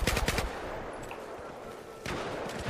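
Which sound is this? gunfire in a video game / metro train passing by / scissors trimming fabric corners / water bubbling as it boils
gunfire in a video game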